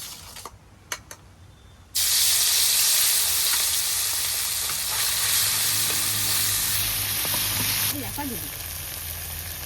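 Fish, hilsa among them, hits a hot pan and bursts into a loud, steady sizzle that runs on after a few quiet clinks, fading slightly near the end.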